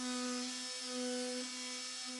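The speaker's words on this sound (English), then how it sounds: "begin sanding paint away with a low grit count sanding sheet" A steady, high-pitched motorized whine with a faint grinding rasp, continuous and close, from a Dremel MM40 multi-tool with a low-grit sanding sheet stripping paint off an old wooden window.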